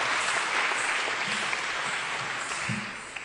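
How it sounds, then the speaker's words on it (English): An audience at the SAPNA launch event applauds Tamara's performance with steady, dense clapping that holds evenly for several seconds, then eases slightly near the end. No one speaks over it. "Another round of applause for Tamara for her beautiful performance."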